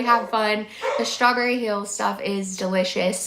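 Several household dogs barking and yipping repeatedly in the background, close and fairly loud, in quick overlapping bursts while someone talks over them.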